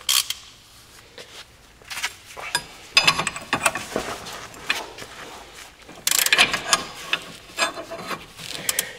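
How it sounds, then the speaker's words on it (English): Press tool being tightened to pull a front wheel bearing into a VW Golf mk4 hub, with close metallic ratcheting clicks, scraping and clunks in irregular bursts, louder toward the end. "So now it's a matter of tightening it all up, and you will see that the bearing is pulled in."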